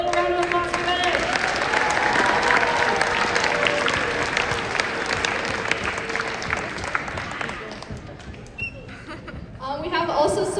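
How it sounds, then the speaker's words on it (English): Audience applause at a Winter Olympics opening party, a dense burst of many hands clapping with a little cheering and laughter, fading toward the end as a voice returns. "Let's do a little round of applause for them."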